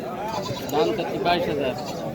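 Goats bleat a few times close by amid a busy goat market at Taherpur, with people talking over and around the calls.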